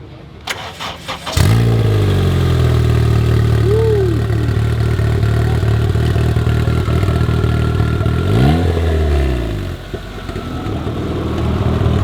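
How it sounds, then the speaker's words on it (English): A car with a K24 engine cranks and starts, then revs loudly several times, pitch rising and falling, settling into a rumbling idle before building again. "That's definitely a K24 engine."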